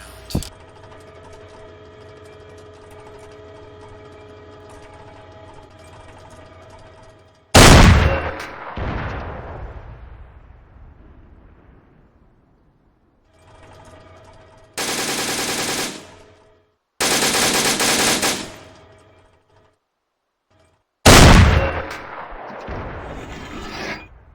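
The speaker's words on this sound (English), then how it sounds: "So I go to the HE round." Tank guns firing high-explosive rounds in the Arma 3 WarMod game, with several sharp heavy blasts whose roar trails off, separated by quiet gaps and a low idling engine hum at the start.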